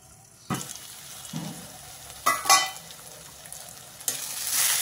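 Onions softening in a covered pan give off a low, steady sizzle, broken by a few sharp clatters and scrapes from stirring or the lid, with no talking.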